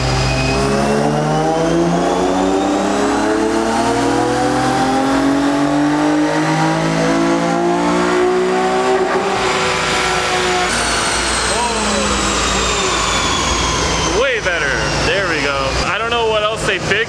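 Nissan 370Z engine on a dyno, revving steadily upward toward redline with a rising harmonic whine, loud and continuous, then dropping off and blipping near the end; a voice talks over it.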